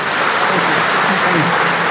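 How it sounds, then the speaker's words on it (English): A conference crowd at a digital industry event gives a big round of applause for two presenters, a dense, loud, continuous wash of clapping filling the whole moment. "can we do an absolutely gigantic round of applause here for Carlijn and Thomas"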